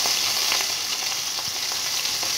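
Ground spices and asafoetida sizzle in hot mustard oil as a little water is added, a steady close crackling hiss with faint spattering pops and no talk.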